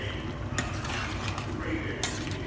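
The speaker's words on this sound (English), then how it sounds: "Just give it a good stir." Curry sauce with broken-down onions being stirred in a pan for a restaurant-style meat vindaloo, a steady soft scraping and clinking of utensil against metal with a low cooking hiss throughout, close by.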